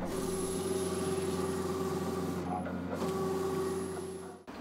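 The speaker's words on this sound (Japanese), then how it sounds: "使ったのはインクジェットプリンター" An inkjet printer printing onto textile for traditional Kyoto dyeing, a steady mechanical whir with a constant tone and a brief dip partway through before it ends.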